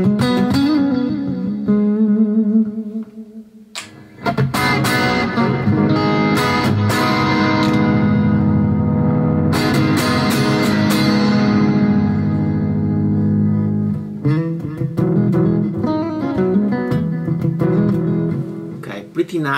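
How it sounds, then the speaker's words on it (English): An electric guitar plays through a Boss GX-100 multi-effects processor with added modulation, delay and reverb, its strummed chords and lingering repeats filling the space, while a voice talks intermittently over the playing. "pretty nice delay and reverb"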